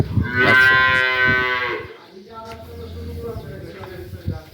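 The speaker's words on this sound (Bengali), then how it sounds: "দুইটা গরু দেখেন" A dairy cow lets out a loud, drawn-out moo nearby at a farm in Dinajpur, followed by softer lowing and some faint background shuffling.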